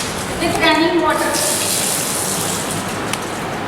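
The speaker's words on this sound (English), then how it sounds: "with running water" Tap water runs steadily into a wash basin in a school lab's wash area, a broad even gush with a voice talking over it near the start.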